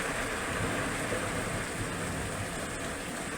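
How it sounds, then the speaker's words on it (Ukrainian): Heavy rain with hail during a violent storm, heard from indoors through window glass, makes a steady, dense hiss and roar without a break, with no voices. "Град, лівень, як із відра, вітер."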